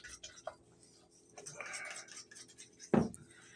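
A fork clinks and scrapes against a bowl while stirring ingredients for a zucchini tomato pie, with a few light taps and a sharper clatter near the end, close and fairly quiet.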